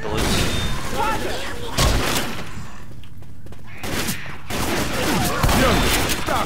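Bursts of gunfire from the zombie shooter Left 4 Dead 2, with rapid volleys near the start and heavier continuous firing toward the end, mixed with players talking over the shots.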